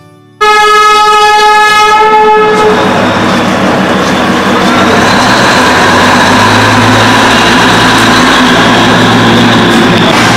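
A Darjeeling Himalayan Railway diesel toy train sounds a long, loud sustained horn at close range, then rumbles and clatters steadily as it pulls away from the station.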